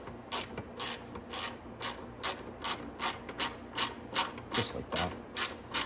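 Ratchet wrench tightening a 10mm bolt on the side fairing of a Venom X20 125cc motorcycle: a steady train of about fourteen crisp, close clicks in even rhythm, with a brief spoken remark near the end.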